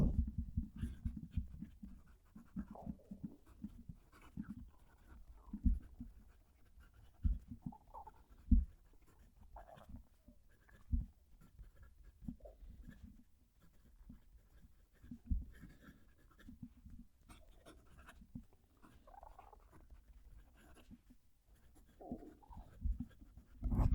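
Opus 88 Koloro fountain pen writing a sentence on paper, a close, quiet scratching of nib strokes with soft irregular taps and pauses between letters, no talking.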